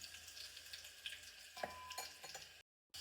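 Cumin seeds temper in hot oil for a village-style brinjal kadhi, a faint steady sizzle with light stirring clicks, cut off by a brief silence near the end.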